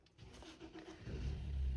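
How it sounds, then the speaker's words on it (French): A car engine starts up as a husband drives off, a muffled churn and rumble that swells into a steady low idle growl, heard from a distance indoors with no talking. "il va y avoir un bruit de voiture, c'est mon mari qui va démarrer"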